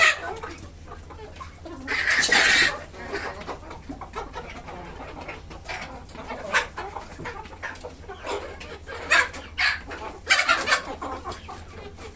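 Desi chickens on a poultry farm cluck in repeated bursts, some louder and closer, over a steady low hum.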